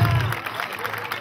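Crowd applause at a jaripeo rodeo in San Sebastián Progreso: a brief, fairly loud wash of clapping and crowd noise, with a low rumble at the very start.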